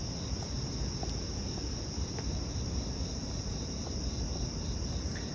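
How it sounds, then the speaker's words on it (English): Dense, steady chorus of crickets chirping after dark in Central Park, a continuous shrill trilling layered over low, constant city hum, with no voices. "just listen to the sound of the crickets"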